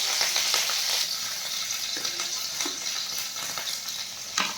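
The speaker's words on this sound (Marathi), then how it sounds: "हिरवी मिरची छान तळून घ्यायची आहे" Green chilies fry in hot oil in a kadhai with a loud, continuous sizzle and crackle, plus a few spoon scrapes, close up, without speech.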